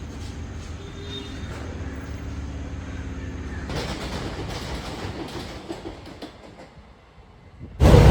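A moving train rumbles steadily with a clattering rhythm, growing busier partway through before a loud bump near the end; no one speaks.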